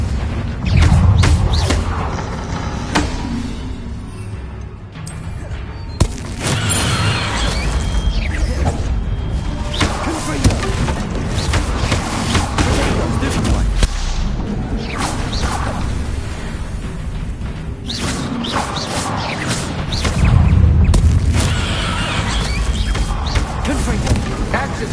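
Confringo spell blasts in Hogwarts Legacy land as loud booming impacts and crashing debris within dense, busy game sound, with heavy low thumps swelling at several points.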